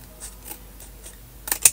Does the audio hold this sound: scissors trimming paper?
yes